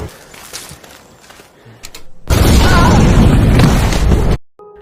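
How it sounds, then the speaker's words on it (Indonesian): A landmine goes off in a war film set on an island held by Japanese troops: a sudden, loud, close blast that roars as a dense broadband burst for about two seconds before cutting off, after quieter ambient shuffling. "Ia pun kaget melihat Georgie, adiknya sendiri, yang terkena ledakan ranjau"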